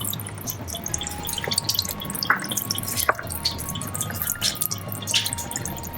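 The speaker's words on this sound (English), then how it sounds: "You're going to hear the water releasing." Water drips and trickles as it releases through the nozzle of a coffee enema bag, a faint run of small splashes and drops over steady low background noise, with no talking.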